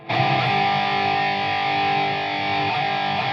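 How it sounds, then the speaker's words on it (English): A heavily distorted electric guitar chord, played through a Digitech RP1000 effects processor, rings out loud and sustained, buzzing with gritty overdrive, then is briefly re-struck near the end. "I may not be happy with the particular distortion sound"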